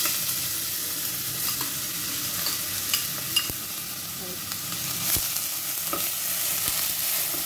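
Chopped bottle gourd roasting in ghee, a steady close sizzle with scraping stirs and occasional sharp utensil taps against the pan, continuous throughout with no talk.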